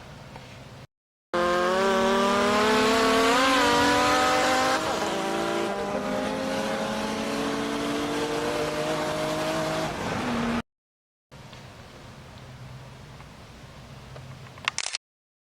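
A loud car engine revving hard, pitch rising and falling through gears, with a short gap and then a quieter stretch of engine noise.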